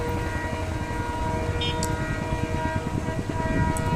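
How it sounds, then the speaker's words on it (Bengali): A local train approaching in rainy weather, a sustained horn drone with steady tonal layers over a rumbling, rhythmic rolling beneath, fairly loud and continuous, with no talk. "বাবা বলছে ট্রেন আসছে"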